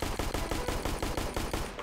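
Rapid repeated gunfire in the Roblox game Flag Wars, about a dozen evenly spaced shots in a steady rhythm, loud and close with no talking.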